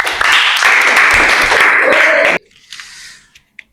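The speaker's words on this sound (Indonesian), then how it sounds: "Oke, tepuk tangan." A classroom group of students claps hands together in a dense, loud burst lasting about two seconds, then stops abruptly, leaving a faint hiss and a small stray sound.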